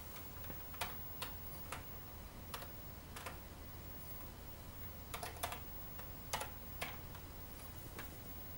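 Keys clicking on a Commodore 64 keyboard, a sparse series of sharp, isolated taps spaced irregularly over a steady background hiss, moderately close and fairly quiet, with no voices.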